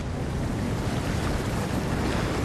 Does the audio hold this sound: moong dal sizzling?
no